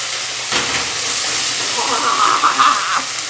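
A stir fry hisses and sizzles loudly in a hot pan just after oyster sauce goes in, a steady steamy crackle with a brief louder surge near the end.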